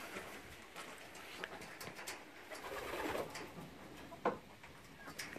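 Racing pigeons, young birds back from a junior flight, coo softly in short low bursts near the loft, with light fluttering and scattered background noise.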